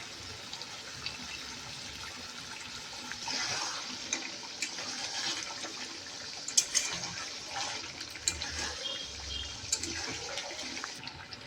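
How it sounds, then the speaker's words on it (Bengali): Rose water poured into a pot of mutton biryani during home cooking, a soft, steady watery trickle with faint splashing heard up close and alone, lasting through the clip. "অল্প একটু গোলাপ জল দিয়ে দেবো।"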